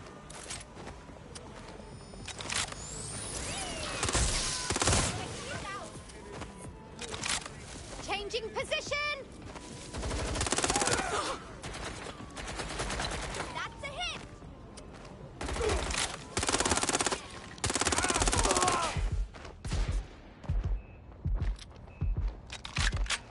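Bursts of gunfire from the video game Watch Dogs Legion, clusters of shots rattling off under continuous talk, with loud stretches and quieter gaps between them.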